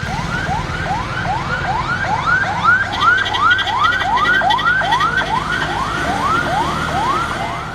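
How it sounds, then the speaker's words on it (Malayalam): An ambulance siren wails in rapid repeated rising-and-falling sweeps, loud and close, during disaster relief work around Kalpetta, Meppadi and Chooralmala in Wayanad. "നിലവിളി ശബ്ദമിട്ട് 24 മണിക്കൂറും ചീറിപ്പായുന്ന ആംബുലൻസുകളാണ്"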